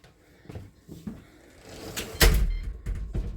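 Apartment door in Korea swinging shut and locking itself a few seconds later: scattered soft clicks and knocks, then a loud latch clunk followed by smaller mechanical clicks, close by.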